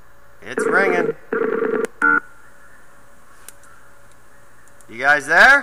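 A few electronic ringing tones sound in short bursts over a line, followed by a voice starting to talk.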